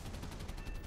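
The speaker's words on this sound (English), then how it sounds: "That's artillery." Artillery fire in a video game, a dense continuous rumble of rapid distant blasts pulsing steadily through one brief moment without gaps.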